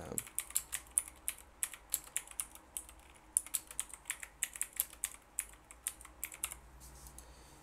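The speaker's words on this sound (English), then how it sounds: "Let's do a typing test really quick." Rapid typing on a computer keyboard, close and crisp, with uneven bursts of keystrokes running continuously throughout and short pauses between runs of clicks, no voices.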